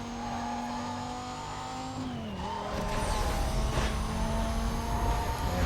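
A race car in Need for Speed: Most Wanted (2005, PS2) drones loudly at a steady engine pitch, briefly dips as the revs shift, then surges back with a rising roar and a tire squeal, with no voice over it.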